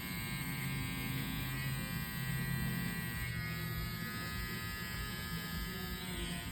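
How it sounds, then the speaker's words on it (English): A hair trimmer buzzes steadily at close range while cutting clipper-over-comb on a fade, a constant electric hum with slight shifts as it moves through hair. "we're using a trimmer to do clipper over comb"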